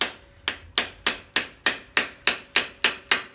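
A hammer strikes a truck axle ten times at an even, steady pace, each blow sharp and close with a short metallic ringing decay.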